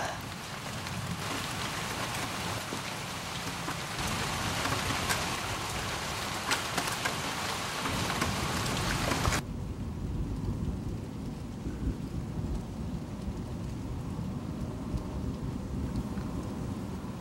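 A summer thunderstorm breaks an English heatwave with steady, dense rain hissing on surfaces and low rumbles of thunder, loud at first and then suddenly quieter and more muffled.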